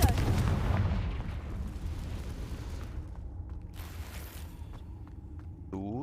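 A Confringo fire spell blasts in the video game Hogwarts Legacy, opening with a loud booming explosion that rumbles and decays, followed by fainter crackling debris and a short rising magical whoosh near the end.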